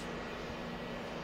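A helicopter in Battlefield 1942's Desert Combat mod on Wake Island drones with a steady, dense engine and rotor roar, continuous and fairly loud for a brief moment, with no voices.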